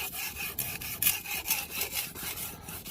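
A steel blade is rubbed back and forth across a fine-grit natural sharpening stone, giving quiet, close, rhythmic gritty strokes with faint crackling and no talk.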